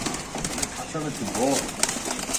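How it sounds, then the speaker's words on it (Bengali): Soft coos of racing pigeons sound a few times amid background chatter and outdoor noise, fairly faint. "আকাশে কিছু কবুতর উঠে গেছে আকাশে নামান ভাই"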